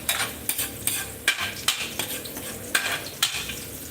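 Garlic frying in a pan, a continuous close sizzle punctuated by regular clacking strokes of a utensil against the pan, roughly two per second.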